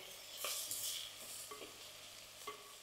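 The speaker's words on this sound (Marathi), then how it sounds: "व्यवस्थित आपल्याला या फोडणीत मेथी छान परतवून घ्यायची आहे" Chopped fenugreek leaves stir-fried in a hot tempering, with soft sizzling under repeated spoon scrapes and taps against the pan, close and fairly quiet, no voices.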